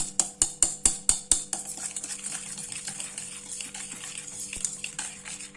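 Cake batter being beaten after flavorless oil is poured in for a rava orange cake: six sharp, evenly spaced clinks of a whisk or spoon against the bowl, then softer continuous stirring and scraping, close by, with no talking.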